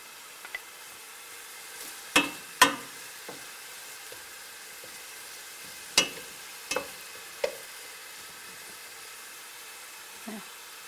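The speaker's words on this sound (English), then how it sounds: "This is onions, okay? Let it fry a little bit." Onions frying gently in a pan for mussels with tomato sauce, a soft continuous sizzle with scattered sharp clicks and utensil taps, close and quiet.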